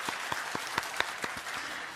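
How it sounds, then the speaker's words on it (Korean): Church congregation at a Sunday worship service clapping, a brief stretch of distinct, fairly regular claps standing out over a soft background wash. "큰 박수로 마음을 좀 표현하면 좋겠습니다"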